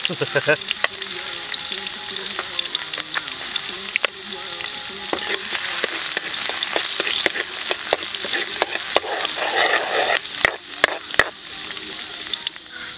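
Garlic sizzles and fries in a pan over a wood fire with a constant crackling hiss, close and bright, broken by occasional stirring clicks and scrapes.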